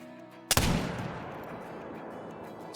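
A single loud .50 caliber muzzleloader rifle shot in the hunting game Call of the Wild, a sharp blast followed by a long rolling echo that fades across open terrain, with no talk.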